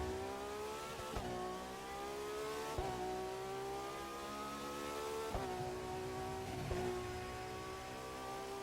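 Ferrari FXXK from 2014 revving in The Crew 2 racing game, a steady high engine note climbing through gears with sharp shift breaks, loud and continuous with no talk.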